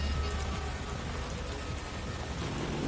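Heavy rain falls on London pavement in the Watch Dogs Legion video game, a dense, constant, loud hiss with a low rumbling underneath and no voices.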